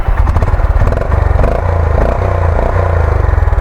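A Honda CB350 DLX motorcycle engine thumps steadily and loudly while being ridden, a close, continuous mid-pitched throb with no speech.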